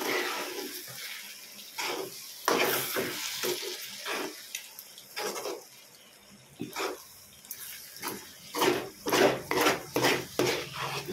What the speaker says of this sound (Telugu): అంతా ఒకసారి కలుపుకోవాలి